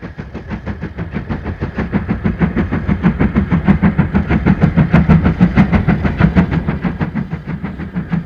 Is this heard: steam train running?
yes